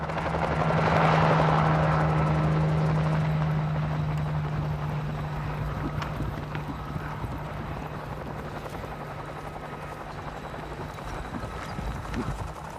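Helicopter flying low to herd wild mustangs, its rotor drone loudest early then easing into a steady hum, with faint hoof-like patter and wind noise beneath.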